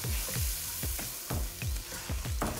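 Fine semolina (suji) frying in a pan for halwa, with soft sizzling under a steady rhythm of scraping stirs, about two each second, close and fairly quiet.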